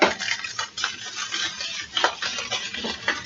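Milk and flour gravy boils in a pan with sausage, crackling and popping in quick irregular bursts, close by and fairly soft, with a few faint clinks mixed in.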